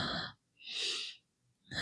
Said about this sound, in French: la respiration est un petit peu plus rapide que d'habitude